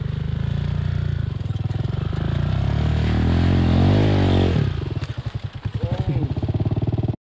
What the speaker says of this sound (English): Sadly, not enough throttle in the end and the bike started to slip back and of course he had to drop the bike.